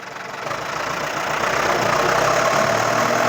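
A Ford 6610 tractor engine revs in gear, loud and close, its rough mechanical drone building over the first second and then holding at a steady high pitch.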